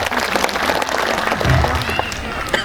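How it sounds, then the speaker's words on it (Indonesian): An audience at a Muhammadiyah branch gathering in Ngadirejo applauds the women, a close, busy burst of many hands clapping with a few voices mixed in. "Tepuk tangan untuk mbak-mbak kita"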